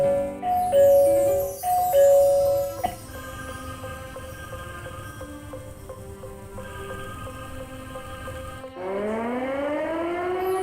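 A Bluetooth sound-alert LED bulb plays a loud siren-like alarm: sustained electronic tones that step between pitches, then sweep upward near the end, continuous and close with no talking.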